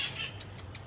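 Wild parrot in San Francisco giving a few short, sharp squawks in quick succession, close by and moderately loud, with a brief harsher call at the start.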